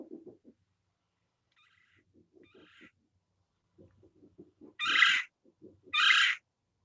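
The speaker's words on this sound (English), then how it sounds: "The red-bellied woodpecker." Recorded calls of a red-bellied woodpecker, a few faint low murmuring notes followed by two loud, harsh, rolling calls about a second apart, played back indoors.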